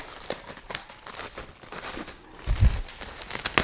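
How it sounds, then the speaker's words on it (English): Plastic wrapping crinkles and tears as a new hydraulic swager unit is unwrapped, a run of close, irregular rustles with a louder burst near the end. "Take it out of its plastic like so."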